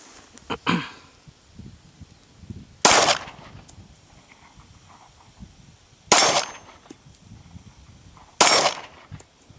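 Three sharp, loud pistol shots from a Glock firing hot loads outdoors, spaced a few seconds apart, with a fainter click or knock early on and quiet in between.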